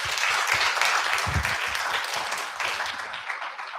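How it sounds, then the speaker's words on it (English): An audience at a launch event for a prosecutorial accountability database gives the panelists a full, close round of applause, dense and even at first, then thinning slightly as it winds down. "please give them a big round of applause"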